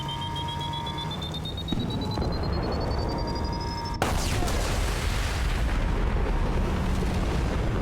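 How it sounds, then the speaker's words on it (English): A mech in Mass Effect 2 blows up after a whining, rising alarm tone, then a sudden loud explosion bursts in and leaves a rumbling, crackling roar for several seconds. "When you get a headshot kill on an Umia mech, it goes boom."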